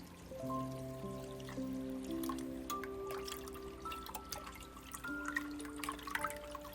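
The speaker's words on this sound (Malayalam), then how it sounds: "അതിനുശേഷം നമുക്ക് ശർക്കരപ്പാനി ചേർക്കാം." Jaggery syrup being poured into a Pesaha appam mixture, a quiet liquid trickle and dribble with tonal gurgles and drips, close and low in level.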